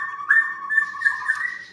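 A caged green leafbird (cucak ijo) sings a sustained, whistled warbling phrase, clear and close, with no voices.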